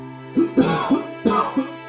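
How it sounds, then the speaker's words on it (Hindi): A man coughs in two harsh bursts, each breaking into several rough coughs with a throaty, voiced edge, close and loud over a steady low hum. "रात से खांस खांस के बुरा हाल है आपका"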